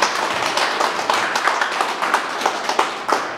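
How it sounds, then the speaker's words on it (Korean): A small group at a press conference claps steadily, a brisk patter of hand claps with no voices, moderately close. "여러분들 힘찬 박수로 모시도록 하겠습니다"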